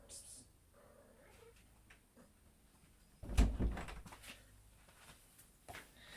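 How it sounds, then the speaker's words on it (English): A cat comes in through a door at home, with soft rustling and a thump-like burst of movement midway, while a person speaks quietly in the background. "I'm just going to let my cat in."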